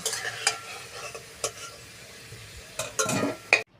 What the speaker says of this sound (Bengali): কড়াই আমি পরিমাণ মতো তেল দিয়ে আলুগুলো ভেজে নেব।